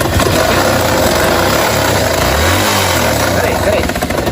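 A 2022 Lander motorcycle engine with an abnormal mechanical noise idles steadily and loudly up close, a dense, continuous running rumble that fills the whole stretch, with a voice faintly present.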